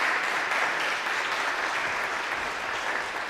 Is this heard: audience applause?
yes